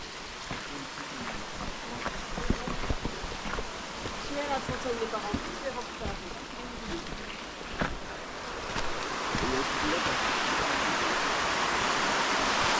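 Steady rushing water from a flowing stream near All Saints Waterfalls in Germany fills the scene close by, growing louder and broader toward the end with some faint scattered sounds over it.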